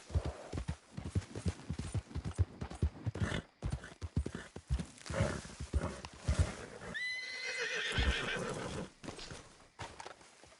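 A horse gallops in the video game Red Dead Redemption 2, steady rhythmic hoofbeats running throughout with a loud whinny partway through, close and unaccompanied by speech.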